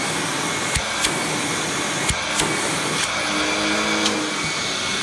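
A Hoover Windtunnel Supreme U5458-900 upright vacuum cleaner runs with a loud, steady, close-up roar, broken by a few faint knocks and clicks.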